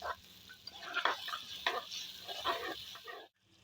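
Tomatoes sizzle in a hot pan as they cook down for an egg fry, a steady crackling hiss with occasional stirring scrapes, close and fairly quiet, ending abruptly.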